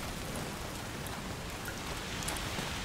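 Steady, dense rain pours down in A Plague Tale: Requiem, an even hiss of drops without letup and no voices over it.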